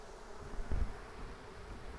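Honey bees buzz faintly around a hive frame during a late-September inspection on a farm, a low, soft drone with one brief louder pass.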